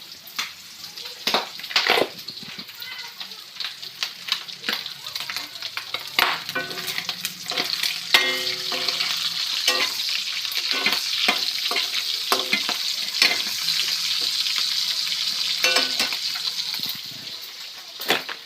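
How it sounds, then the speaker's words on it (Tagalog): Steady loud sizzling and crackling of pork frying in hot oil, with frequent sharp pops and spatters throughout. "Prito tayo ng baboy."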